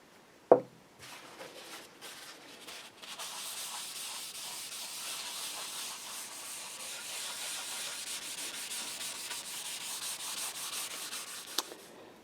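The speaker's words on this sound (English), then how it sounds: "So we'll just put on a nice amount of this and just rub it all in." Crimson Guitars penetrating finishing oil rubbed by hand into a Telecaster guitar body with a cloth, a soft continuous close-up swishing rub after a sharp initial tap, steady and quiet.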